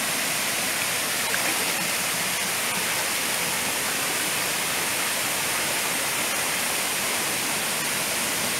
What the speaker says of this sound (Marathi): हे हा झरा आहे